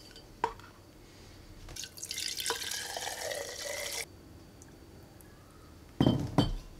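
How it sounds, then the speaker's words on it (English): UJSSM spirit trickles into glass jars with a splashy liquid pour lasting a couple of seconds, framed by sharp clinks of glass and light knocks before and after. "let's get that UJSSM into those jars"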